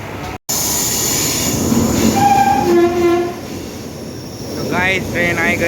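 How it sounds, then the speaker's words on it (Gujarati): A train pulls into a station with a low, steady rumble, a few clear horn or whistle tones, and squealing wheels near the end, heard up close without talk. "ટ્રેન આવી ગઈ છે"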